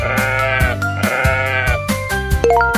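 A goat bleats several times in quick succession, loud and close, the wavering cries followed by a few bright cartoonish tones near the end.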